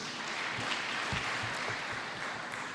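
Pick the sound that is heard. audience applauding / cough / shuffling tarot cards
audience applauding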